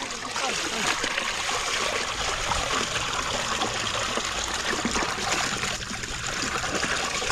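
Water gushing and splashing steadily into a large swimming pool being filled, a continuous loud rushing stream with no break, broadband and close.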